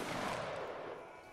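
Musket volley in the Roblox Waterloo battle game, a single dense crackling burst of many simultaneous shots that fades over about a second, fairly faint.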